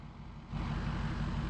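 Black Ford F-450 pickup truck in Farming Simulator 19 opening to full throttle, a low engine hum that jumps abruptly into a louder, steady roar, with no talking.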